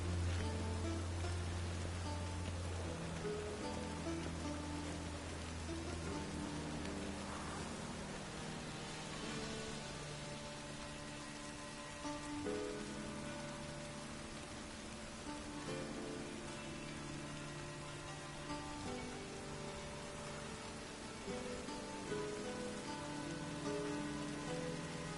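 Steady rain falls in The Witcher 3: Wild Hunt, a continuous even hiss that runs the whole way beneath a layer of game music with sustained tones.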